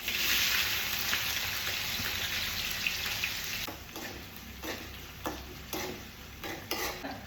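Garlic, green chillies and curry leaves dropped into hot oil after mustard and fenugreek seeds, giving a steady crackling sizzle with scattered stirring clatters toward the end, no voices.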